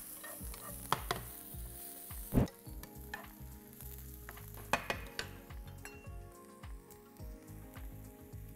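Broccoli, mushrooms and vegetables sizzle quietly in a pan while a utensil stirs, with occasional clinks and scrapes against the metal.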